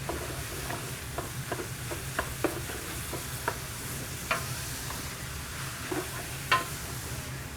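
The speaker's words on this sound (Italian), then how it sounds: "Qua a fuoco sì che lo alziamo finché ci rendiamo conto che siamo riusciti a caramellizzare bene tutta la proteina" Meat browning in a pot for ragù over high heat, a continuous close sizzle broken by regular scraping and stirring clicks from a utensil, with no talk.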